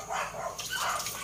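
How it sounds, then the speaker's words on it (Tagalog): Several dogs barking nearby in a Filipino home cooking setting, a run of short barks and yips carrying through the clip at moderate loudness. "Daming aso, daming aso."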